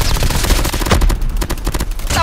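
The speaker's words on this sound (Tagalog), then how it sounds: "Kala ko malayo yung gunshot." Dense, rapid gunfire fills a shooting video game, with loud overlapping bursts and single shots crackling continuously from start to end and no voices over it.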